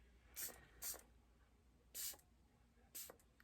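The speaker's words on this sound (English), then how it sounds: "Let's see how it sprays." Spray toner bottle misted in four short, faint hissing bursts, two close together, a pause, then two more spaced apart, against a quiet room.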